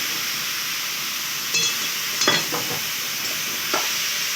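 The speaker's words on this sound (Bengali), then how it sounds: "ভেজে রাখা পেঁপেটা দিয়ে দেওয়া হচ্ছে, দিয়ে ভালো করে নাড়িয়ে নিয়ে আলুটা দিয়ে দিল" Grated fried papaya and fried potato stirred in a pan with spices for a vegetarian papaya ghonto, giving a soft steady sizzle with a few short scraping stirs close by.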